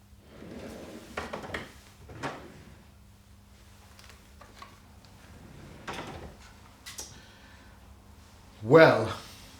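Wooden drawer sliding open and shut with soft scrapes and knocks, then a louder thump as it closes, near and moderate in a quiet room with occasional talk.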